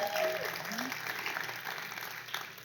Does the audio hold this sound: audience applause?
yes